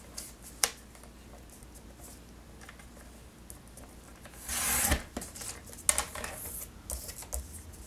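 Trimming a leftover portion of a paper envelope on a paper trimmer, a brief scraping slide of the blade through the paper followed by light clicks and handling taps, close and fairly quiet with no talking.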